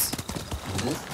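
Quick hoofbeats of a galloping horse in the video game Ghost of Tsushima clatter in a brief run, mixed with faint voice-like sounds, close and moderately loud.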